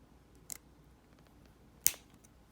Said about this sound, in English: Because I have the wire cutters, I'm just going to use that. And we're going to snip.